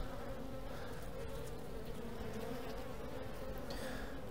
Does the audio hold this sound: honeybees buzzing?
yes